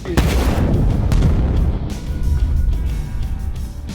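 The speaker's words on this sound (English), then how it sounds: "a massive explosion rocked the area" A loud, rumbling blast with heavy low booming and crackling debris, sustained and dense for several seconds.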